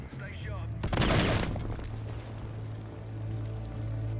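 A vehicle blows up in the video game Battlefield 6, giving a sudden loud burst of explosion noise that fades into a lingering rumble and crackle.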